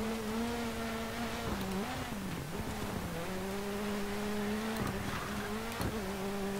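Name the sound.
rally car engine driving in DiRT 4 video game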